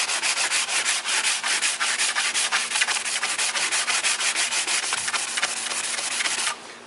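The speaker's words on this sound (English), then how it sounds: "Now I'm going to flip it and still going the length of the flute to sand it." Sandpaper rubs steadily along a PVC flute in quick, even back-and-forth strokes, close and moderately loud, stopping abruptly near the end.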